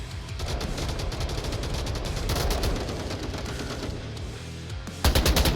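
Rapid bursts of automatic rifle fire fill a competitive match of the VR shooter Onward, dense and loud throughout with a sharper, louder volley near the end.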